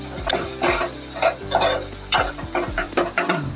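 Chole spices roasting dry in a pan over a high flame, close rhythmic scrapes and knocks from a spoon stirring against the metal, with a light crackle underneath.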